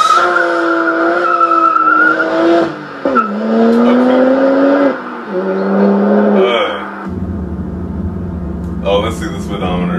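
A BMW 1M with the N54 engine accelerates hard from 100 to 200 km/h, its loud engine note climbing in pitch through several gear changes with brief dips between shifts, then settling into a lower drone.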